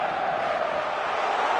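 A stadium crowd roars in an eFootball 2023 match, a steady, dense wash of cheering voices filling the whole short moment without letup.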